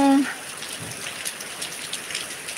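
Rain falls steadily on a rainy Wednesday, a soft continuous hiss with scattered droplet patters, opening with a brief tonal blip and continuing at moderate level without talk.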